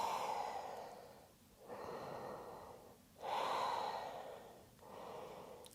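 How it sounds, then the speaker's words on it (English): Slow, deep breaths during yoga, close and audible: long airy inhales and exhales repeat in a steady rhythm, about four breaths with brief pauses between them. "Breath in and exhale up."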